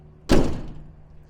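A rear barn door on a Knapheide enclosed work body of a 2011 Ford F-450 4x4 shuts with a single solid slam, close and loud, followed by a short fading rattle over a quiet background.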